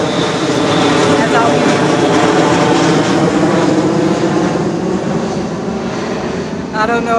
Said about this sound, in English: I don't know about this airplane thing.